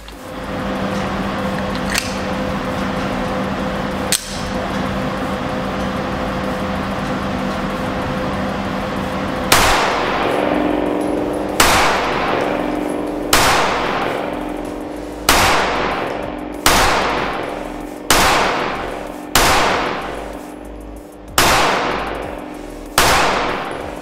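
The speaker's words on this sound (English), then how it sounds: "let's check out some shooting footage" Loud, sharp shots from a Stoeger STR 9 Optics Ready pistol ring out one after another at a steady pace, about ten in all, each with a short echoing decay, and no voices are heard.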